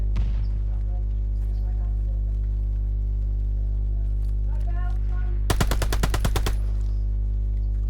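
Bursts of rapid automatic gunfire from the video game Call of Duty Vanguard, a dense rattling volley of about a second standing out over a steady low electronic hum, with faint scattered effects beforehand.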